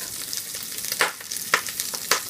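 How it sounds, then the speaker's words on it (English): Vegetables frying in olive oil in a pan, a constant close sizzle punctuated by three sharp crackling bursts as they are stirred or spit, with no voices over it. "So I'm going to put a bit of olive oil in there now just to brown the vegetables off"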